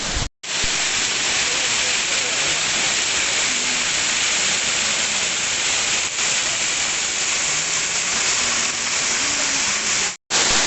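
The Bamni waterfall in West Bengal roars as a loud, continuous broadband rush of falling water, steady throughout apart from two brief dropouts.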